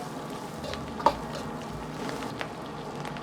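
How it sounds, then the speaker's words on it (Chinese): Garlic scape pieces are stir-fried in a wok with ginger, scallion and rendered pork belly fat, giving a steady sizzle and a few soft scraping stirs that stay fairly faint throughout. "然后再倒入蒜苔段翻炒均匀"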